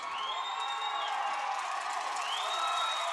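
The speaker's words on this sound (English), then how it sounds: "And the crowd realizes it. They're on their feet. They're cheering." A football crowd in the stands cheering at a Farmersville vs. Mendota high school game, a sustained wash of distant voices with whoops and rising shouts, steady and fairly loud throughout.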